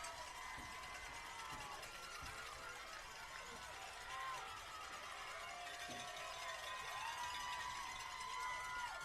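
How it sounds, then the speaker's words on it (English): A crowd cheers and whoops steadily at a fourth grade football championship for the Lincoln Christian Bulldogs in Catoosa, during the trophy presentation. The roar is loud and continuous, with voices mixed through it. "Can hear the crowd absolutely ecstatic for their Lincoln Christian Bulldogs"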